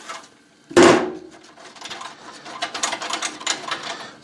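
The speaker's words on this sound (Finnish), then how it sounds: "siitä ruvetaan sitten aukaisemaan pulttia" A ratchet wrench loosens a bolt on a pellet boiler during maintenance: a loud metallic clunk, then a run of quick rhythmic ratcheting clicks growing busier toward the end.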